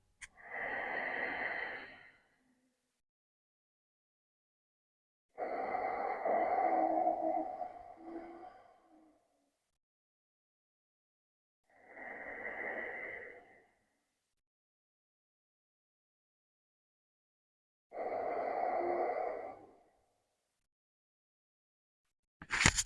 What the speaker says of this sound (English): So, the Ujjayi breath constriction at the back of your throat.